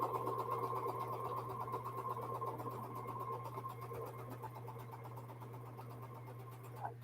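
A domestic sewing machine runs quietly while piecing half square triangle quilt blocks, a soft steady whir over a constant low motor hum that fades slightly toward the end.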